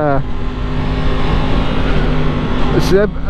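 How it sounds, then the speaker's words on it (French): A Yamaha MT-10 motorcycle's inline-four crossplane engine with stock exhaust revs loudly and steadily up close, with a harsh, throaty roar that swells and drops back near the end. "le 4 cylindres crossplane comme ça, c'est vraiment un très joli son"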